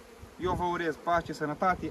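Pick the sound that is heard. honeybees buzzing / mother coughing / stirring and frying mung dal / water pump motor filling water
honeybees buzzing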